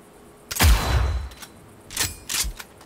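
A gun in Cyberpunk 2077 fires one heavy, booming shot with a long rumbling tail, followed by two quicker, sharper bursts, all loud and close with no talking.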